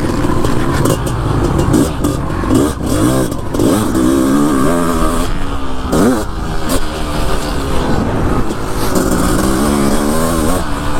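A 500CR motorcycle being ridden and accelerating, loud and close, with repeated rising engine revs and gear changes over constant road and wind noise.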